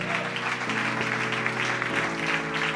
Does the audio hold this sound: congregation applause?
yes